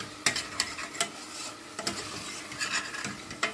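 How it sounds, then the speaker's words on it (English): A spoon stirs potato and pilchard curry and scrapes the bottom of the pot, giving repeated close rasping scrapes over a soft simmering sizzle, with no voices. "Give it a stir, scrape the bottom"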